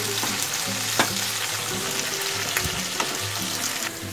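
Chopped onion, ginger, garlic and coriander leaves sizzle and crackle steadily in a hot pan, with a few scraping stirs breaking through the continuous frying hiss.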